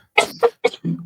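Three sharp, close coughs in quick succession, each a loud burst, followed by a brief rough throat sound.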